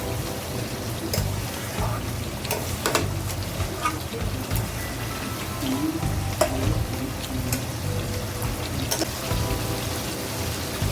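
A duck egg and potato curry with garam masala fries steadily in a pan, a dense continuous sizzle like rain with scattered pops and occasional stirring, close and even throughout.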